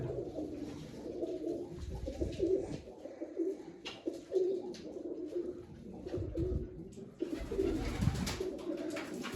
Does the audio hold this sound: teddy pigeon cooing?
yes